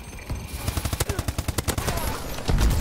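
Rapid automatic fire from the ASM-1 in Call of Duty: Advanced Warfare, a loud, evenly spaced burst of about twenty shots in quick succession, with game background noise underneath.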